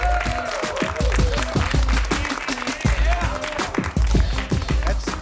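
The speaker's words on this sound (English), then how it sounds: "a big round of applause for Ricky March" An audience at a Chicago comedy show claps and cheers to welcome comedian Ricky March, with steady, dense applause over a thumping beat of background music throughout.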